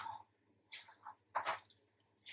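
Raw mutton being mixed with spices by hand for a mutton curry, heard as several wet squelching bursts separated by short pauses.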